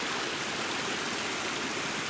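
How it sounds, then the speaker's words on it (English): A steady, dense roar of falling water rushes without pause, broad and hissing like a nearby waterfall on the Appalachian Trail, swollen after heavy overnight rain. "waterfall right there. Right over there."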